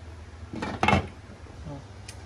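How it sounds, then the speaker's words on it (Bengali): A lid set onto a cooking pot while Irani chomchom sweets cook, one short clattering metallic clunk followed by a faint lighter tap, close and brief against quiet kitchen background. "এখন আমি ঢাকা দিয়ে রাখবো এই 20 মিনিটের জন্য।"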